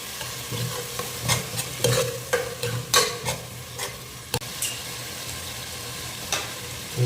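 Tomato paste fries and is stirred in hot oil as the base for a milk fish curry (pal meen kulambu). Scraping spoon strokes come in irregular bursts over a steady close sizzle, with no talking.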